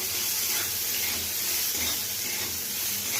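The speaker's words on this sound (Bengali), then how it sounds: "এবার এর মধ্যে দিয়ে দেব সর্ষের তেল, দিয়ে এটাকে একটু ভাজা ভাজা করে নেব" Cauliflower stalks fry in mustard oil in a hot pan for a cauliflower-stalk mash, giving a steady, loud, close sizzling hiss that runs unbroken throughout with no voices.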